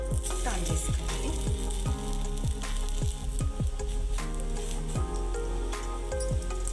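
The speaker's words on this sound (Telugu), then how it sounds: "స్టవ్ సిమ్లోనే పెట్టుకొని నిదానంగా కాల్చుకోవాలి." Paneer paratha cooking on a hot pan over a low flame, a close, continuous sizzle with repeated squishy spitting pops and hisses.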